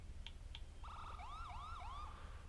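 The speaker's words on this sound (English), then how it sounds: "There's the sirens." In a video game, two short electronic chirps, then a rapid warbling burst and repeated sweeping wails of a Crown Victoria police car siren, moderately loud over a low rumble.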